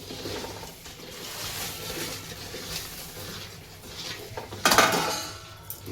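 A spoon stirring peanuts into thick jaggery syrup in a pan gives soft scraping and shuffling, then a brief louder metallic clatter near the end, with no talking.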